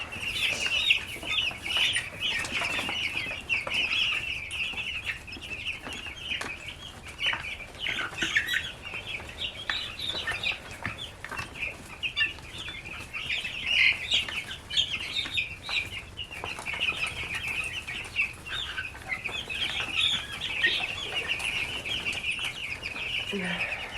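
Two-week-old chicks in a large brood cheep and cluck continuously with occasional wing flapping, a steady close chorus throughout with faint background voice.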